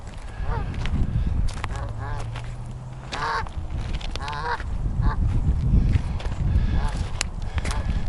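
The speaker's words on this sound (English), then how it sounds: "probably today that goose right there is gonna lay an egg" A goose honks in repeated short bursts near the listener, mixed with other fowl calls and farmyard noise, while people talk over it.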